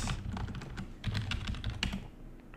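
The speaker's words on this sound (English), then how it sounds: "if it's on, you can just type, like say hello, like this." Keystrokes on a computer keyboard typing a chat message in RuneScape, a quick irregular run of close, crisp clicks heard alone.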